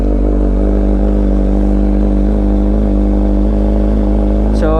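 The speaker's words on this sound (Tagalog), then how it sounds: "Cold start ng ating Ninja 1000 SX." A Kawasaki Ninja 1000SX motorcycle idles loudly after a cold start through a loud aftermarket exhaust pipe. The engine holds a steady, deep, throbbing drone close by, with a brief rising sound at the very end.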